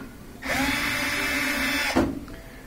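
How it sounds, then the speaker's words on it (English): A power screwdriver whirs for about a second and a half as it backs Phillips head screws out of a Whirlpool microwave, a close, steady buzzing burst followed by a short click and quiet. "So we're going to remove these two Phillips head screws."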